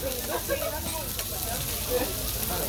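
Garlic and shredded green onions sizzle and fry in a hot pan, a steady broadband crackle running throughout with a voice talking faintly over it.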